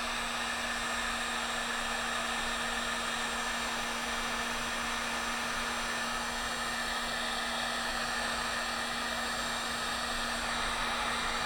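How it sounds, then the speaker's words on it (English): A heat gun blows steadily at close range while it heats and dries leather for a pocket knife sheath, giving a continuous, even airy roar with a constant hum beneath it and no pauses. "So I'm using a heat gun here."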